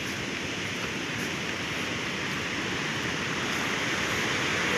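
Water pours over the Leuwi Keris dam on a large river, a steady, loud, unbroken roar of rushing flow with no voices.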